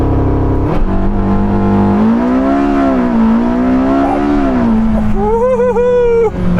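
A Porsche 918 Spyder accelerates hard on a timed standing-start run with warm tyres, its engine rising loud and close in strong sweeping pitch climbs, with a brief shift dip and a high electric whine near the end.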